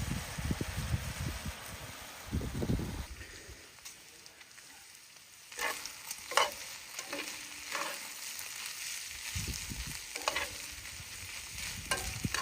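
A ribeye steak sizzles and fries in a pan for a cheesesteak filling with peppers, a steady close crackle with bursts of scraping and stirring, loudest at the start and again toward the end.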